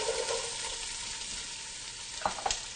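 Onions sizzling in extra virgin olive oil in a pan over lowered heat, a steady close frying hiss with a couple of brief clinks of a utensil near the end, no talking.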